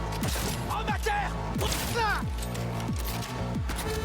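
Gunfire from a handgun in the video game Cyberpunk 2077: repeated sharp shots at a steady, quick rhythm, loud and close, with game music and effects underneath.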